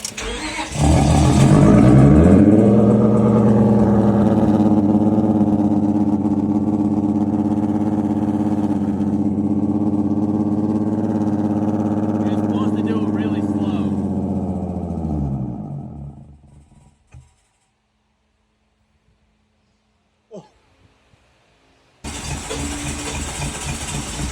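A car engine with its valves being cleaned by drawing in rice starts and revs up hard, then holds a loud, droning run for about fifteen seconds before winding down to silence. A burst of loud noise returns near the end.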